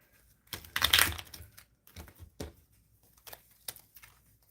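Tarot cards are shuffled by hand during a reading, giving quick irregular papery riffles and soft taps, a louder flurry early then scattered lighter bursts, close and with no talking.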